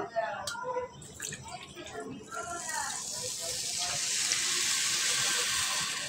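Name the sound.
pouring water onto sugar for syrup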